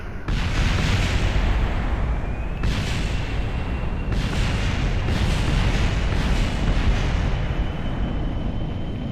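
Hundreds of small bombs from a heavy bomber exploding in the Kerbal Space Program game, a dense continuous roar of overlapping blasts with several stronger bursts, loud throughout.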